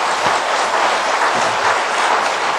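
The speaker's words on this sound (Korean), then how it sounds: "한번 박수 한번 쳐요." A Korean church congregation claps together during a worship service, producing a loud, dense, unbroken rush of hands that fills the room evenly from start to finish.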